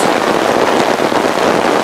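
Steady, dense rain hisses without a break in a pine forest, a close, constant wash of falling drops with no voices.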